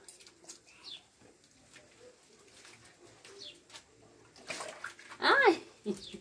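Water runs and splashes intermittently while a dog is bathed, with a short bird-like squeal or whine near the end, moderately close.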